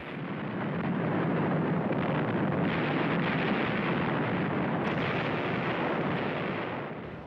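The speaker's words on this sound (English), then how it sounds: "The largest invasion fleet since the Second World War bombards the port of Incheon." A 1950 naval bombardment of Incheon port by an invasion fleet rolls as a continuous heavy rumble of distant gunfire and blasts, dense and unbroken, fading slightly at the end.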